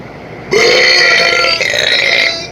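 A loud, long human burp rises abruptly and rumbles on for about two seconds before tapering off, close to the microphone with no talking over it.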